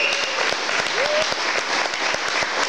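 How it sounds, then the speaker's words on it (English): A live audience applauds and cheers for the organisers of the Solarsphere 2015 event, with dense sustained clapping and sharp individual claps standing out across the whole stretch, a short whistle rising midway. "can we have a massive round of applause and cheer for the organisers of Solarsphere?"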